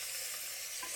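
Onions frying in a pan, a brief steady sizzle that is close and even, with a slight stir near the end and no voices.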